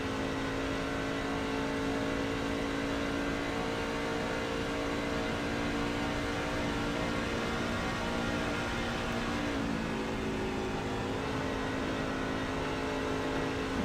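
A race truck engine in a truck racing video game, the Tyger Contracting 167 at Las Vegas Motor Speedway, holds a steady, loud, tonal drone for the whole stretch, shifting pitch briefly partway through as it revs.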